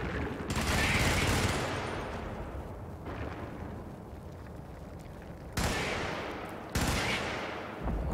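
A heavy machine gun roars in sustained bursts in the video game Helldivers, loud and booming, with the rumbling tail of each burst fading before the next sharp onset.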